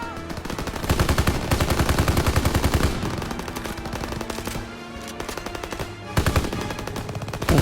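Machine gun firing in a Call of Duty level set during the liberation of Paris, loud rapid automatic bursts hammering in long rolling volleys with brief pauses between them.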